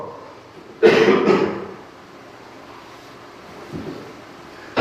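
One rough cough bursts out close by during a church sermon and trails off, followed by quiet room noise and a faint second throat sound.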